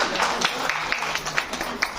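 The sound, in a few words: applause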